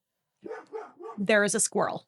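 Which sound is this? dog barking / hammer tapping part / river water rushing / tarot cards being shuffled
dog barking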